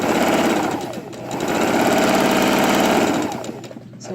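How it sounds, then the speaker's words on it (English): A sewing machine runs a long basting stitch along a centered zipper with no backstitch, its rapid mechanical chatter loud and steady, easing briefly around one second and slowing toward the end. "putting the machine on a basting stitch and go down, no back stitch on this"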